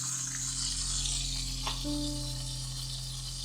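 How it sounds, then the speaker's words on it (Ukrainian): Fish fries in a pan over high heat, giving a steady, close sizzle that keeps up evenly for the whole few seconds with no talking. "Спокійно смажимо на сильному полум'ю."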